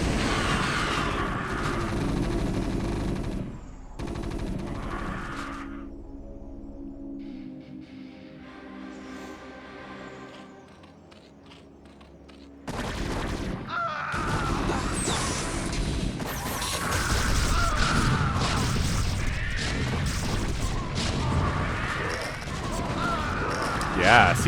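Siege Tanks firing in StarCraft: Brood War Remastered during a Zerg versus Terran match: dense, loud crashing booms and impacts fill most of the stretch, briefly thinning to a quieter lull before the barrage resumes, with a commentator talking over it.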